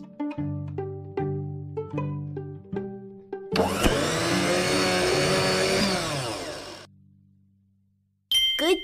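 A blender in an educational smoothie-making game whirs loudly for about three seconds, following a run of rhythmic chime-like game tones and ending with a short electronic blip.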